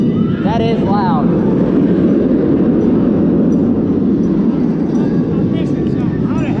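A floorless roller coaster train roars past at Cedar Point amusement park in a loud, continuous rumbling rush, with brief shouts from riders riding above the din.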